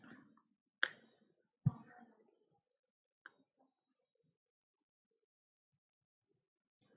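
A few sharp, isolated computer mouse clicks while setting up a free service on the Microsoft Azure cloud portal, sparse and fairly close, with long quiet gaps between them.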